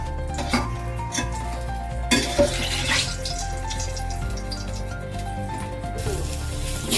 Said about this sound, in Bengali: এরপরে আরো যেগুলো আছে সেগুলোকে ভাজবো